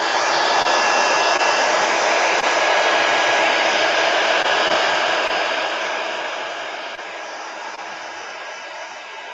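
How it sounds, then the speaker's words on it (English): A heat gun blows continuously close by to dry a colored pencil drawing, a loud steady rushing roar that eases slightly in the second half, with no voices. "let me hit it with a heat gun"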